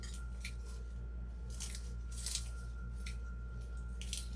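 Scissors trimming a handmade 4th of July door decoration, giving a series of quiet, crisp snips in irregular bursts close to the microphone, alone over a low steady hum.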